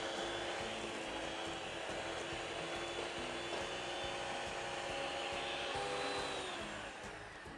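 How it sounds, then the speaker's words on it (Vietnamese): An electric mixer beats butter, sugar and eggs for cake batter, giving a steady, loud motor whir that holds throughout, dips slightly in pitch near the end and trails off. "Sau đó chúng ta sẽ đánh bông bơ với đường lên"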